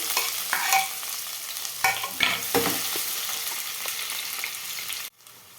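Onions sizzle steadily in hot tempering oil with whole spices for tomato rice, with a spoon scraping and stirring the pan in intermittent strokes, close and continuous, before a sudden cut.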